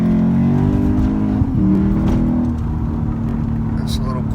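A high-mileage Lexus IS F with a naturally aspirated engine pulls forward in a short, quick acceleration, its engine droning loud from inside the cabin while someone talks over it.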